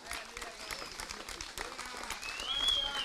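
A crowd of supporters at a Kenyan political party gathering applauds as committee members stand, with steady clapping and cheering filling the space, voices mixed in throughout.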